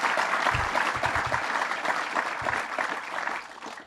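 Audience applause at the Catskill Summer Challenge event, a steady wash of clapping from a crowd filling the whole stretch, with a few low thumps, fading slightly at the end.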